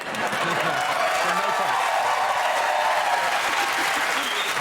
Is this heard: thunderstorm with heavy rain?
no